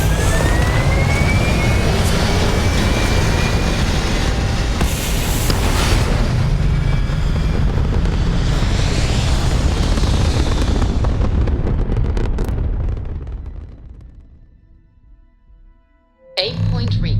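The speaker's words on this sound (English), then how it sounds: "All thrusters firing." Spaceship thrusters fire in Starfield, a loud sustained roar that keeps going for about twelve seconds, then fades away into near silence before a brief new sound at the end.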